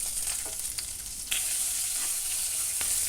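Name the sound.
sliced onion frying in pan for vegetable stew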